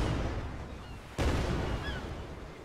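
Boat cannons firing in ARK: Survival Evolved, a sharp blast cutting through steady low rumbling noise, with a brief loud burst partway and the boom fading after.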